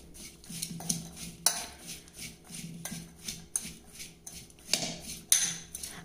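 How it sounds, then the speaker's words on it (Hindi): A spoon stirs ground spices, including turmeric, into radish pieces for a pickle, giving scattered metallic clinks and scrapes against a dish at close range. "इन सभी मसालों को डालने के बाद में हम इन्हें अच्छे से मिला लेंगे।"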